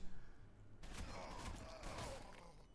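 Gunfire in the Warhammer 40K Sanctus Reach strategy game: a sudden volley of shots erupts after a quiet lead-in, with a dense rattling burst that keeps going under faint voices.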